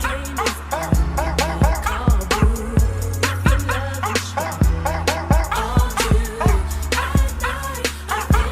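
Several dogs bark loudly and repeatedly up close in a steady, fast rhythm, mixing deep woofs with sharper yips and whines throughout.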